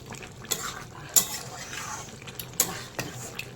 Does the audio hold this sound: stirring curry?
yes